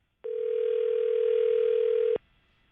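Steady telephone dial tone on a morning show call, one continuous tone lasting about two seconds with a clean start and stop, alone and moderately loud.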